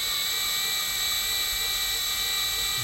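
A drill bores out rivets on a part from a single cab dually truck build, giving a steady, loud, high whine that runs unbroken for the whole stretch with no talking.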